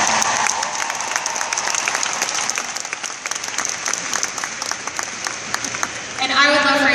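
An audience claps steadily and loudly through most of the moment at a hosted stage event, a dense wash of many hands, before a voice begins talking near the end.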